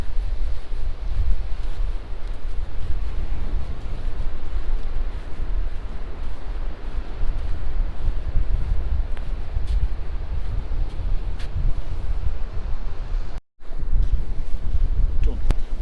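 Steady wind rushes and buffets the microphone during a rainy countryside walk, a loud continuous roar with one brief dropout near the end.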